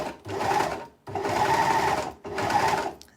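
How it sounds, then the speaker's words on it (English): An overlocker stitches the edge of a fabric pocket bag in three fast whirring bursts, each about a second long, with brief pauses between, close and loud with no talking. "I'm feeding my pocket bag into my overlocker, on keeping my seam allowance on the edge"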